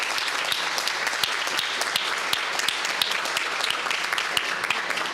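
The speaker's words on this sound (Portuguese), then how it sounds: "Uma salva de palmas para todas as equipes" Applause for all the teams at a Brazilian IYPT Physics Fight round, a dense, steady patter of many hands clapping with sharp individual claps standing out, sustained and fairly loud throughout with no talk.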